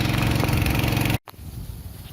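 Electric water pump motor drawing water for garden irrigation, running with a loud, steady mechanical hum that cuts out abruptly for a moment, then carries on more quietly.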